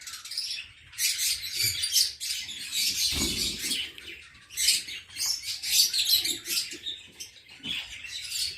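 Lutino lovebirds in an aviary give bursts of sharp, high chirps and twittering calls, close and lively, overlapping in quick irregular flurries with brief pauses between.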